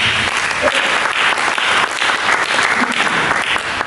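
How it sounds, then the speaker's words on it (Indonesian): A church congregation at a gospel preaching service breaks into steady applause. Many hands clap loudly and evenly through the whole stretch, with a faint murmur of voices mixed in. "Mari berikan tepuk tangan bagi dia."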